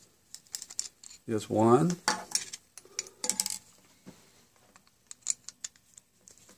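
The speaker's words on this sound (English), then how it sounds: "So we're going to remove the screws." Removing Phillips pan head screws from an optical switch housing with a number one Phillips screwdriver: scattered small metallic clicks and taps at close range, with a brief spoken remark partway through.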